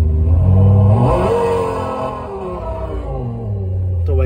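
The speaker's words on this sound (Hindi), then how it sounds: "अपनी ये लेक्सस एलिफिक वाली आवाज है वो सुनाते हैं आपको" A Lexus LFA V10 exhaust note, simulated through a plug-in OBD device, revs up loudly and climbs in pitch, then settles back to a steady idle with another rise at the end.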